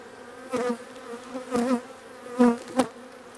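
Honeybees buzz around a beekeeper working an open hive on a farm in spring, several close passes swelling and fading in short bursts over a quieter steady hum.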